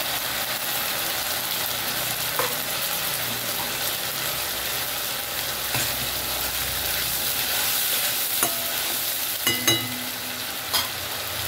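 A paste of ground coconut, ginger, garlic and onion fries for a prawn gravy, making a constant loud sizzle with occasional metallic clinks and scrapes of stirring near the end.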